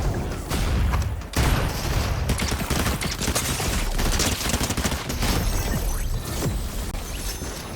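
Dense, continuous gunfire from the Fortnite video game, a loud fusillade of overlapping shots and bursts with crashing impacts filling the whole stretch, no talking over it.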